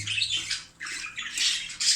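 Shrill, raspy budgerigar squawks come in repeated bursts close by, overlapping into a noisy chatter with no voices.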